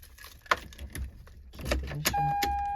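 A car key jangles briefly at the ignition, with a few light metallic clinks followed by a faint electronic chime tone.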